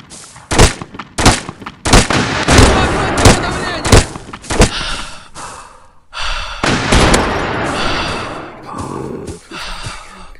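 Video game gunfire as a player fights Russian enemies: sharp, loud shots in an uneven rapid sequence, then a heavier, sustained burst of noisy blasts, with a few breathy vocal sounds between them.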